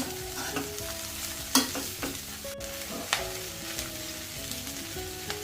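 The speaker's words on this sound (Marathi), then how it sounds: "अशी परतायची आहे खालून अशी वरती घ्यायची म्हणजे सगळ्या बाजूला कांदा डाळ सर्व लागलं गेलं पाहिजे भाजीला" Onion and dal being stirred and sautéed with chivai greens in a pan, a steady close sizzle broken by repeated scraping stirs and utensil clinks, with no talking.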